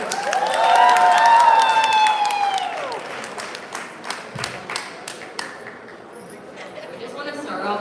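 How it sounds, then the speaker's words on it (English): A crowd at a wedding reception claps warmly and steadily, loud at first and gradually thinning into scattered claps as voices murmur over it. "Let's put a warm round of applause for Arjun and Priya."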